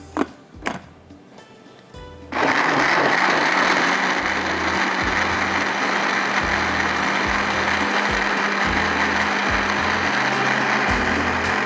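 A kitchen blender grinds a cooking paste for masoor dal masala, a few soft knocks first, then the motor kicks in and runs at a loud steady whir with a rattling, churning undertone until the end.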